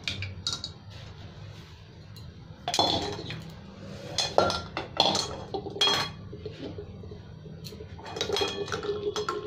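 Boiled young jackfruit and potatoes tipped together into a metal strainer, with clinks and clatters of a pot and utensils, irregular thuds and rattles up close, no talking.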